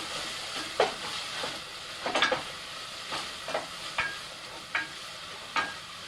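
Onion sautéing in a pan, a steady close sizzle broken by regular stirring scrapes about every half second to second, with no voices.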